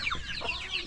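A Japanese Shamo chicken on a farmyard gives quick, soft clucks in a brief irregular burst, close by against light ambient noise.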